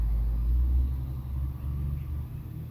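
A truck passes by outside, heard as a steady low rumble that swells slightly then eases off, moderately loud with no other clear sounds.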